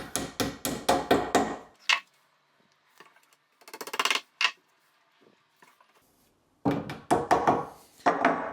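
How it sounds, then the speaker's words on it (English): A hammer taps tight wooden dominoes into a solid wood worktop joint, a quick run of knocks, then a pause with scattered clicks, a few louder strikes, and another fast burst of taps. "Might need a hammer because they're a little bit tight. Tap them in."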